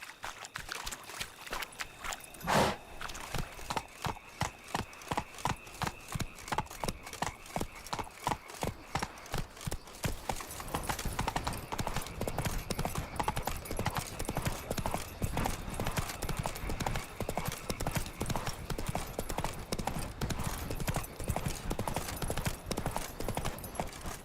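Roach the horse from The Witcher trots along, hooves clip-clopping in a steady rhythm that quickens into a faster, denser beat partway through, close and prominent throughout.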